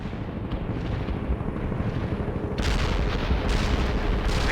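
Continuous heavy artillery barrage in the real-time strategy game World in Conflict, a dense rolling rumble of blasts that grows louder and harsher partway through, with no voices.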